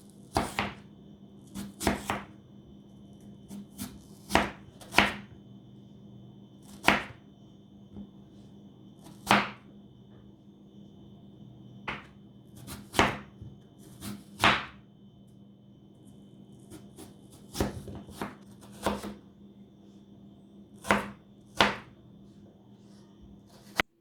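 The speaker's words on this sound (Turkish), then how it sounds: "Patatesleri soyduktan sonra da küp küp dilimleyelim." Repeated sharp knife chops on a cutting board, irregularly spaced, as peeled potatoes are diced into cubes; close and crisp against a quiet background hum.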